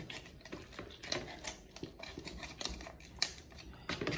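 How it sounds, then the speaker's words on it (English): A knife cutting open a whole turkey during cleaning, heard as a close run of quiet, irregular snips, ticks and scraping strokes with no voice over them. "You're gonna run your knife here so you can cut this open."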